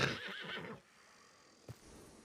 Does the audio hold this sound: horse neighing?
yes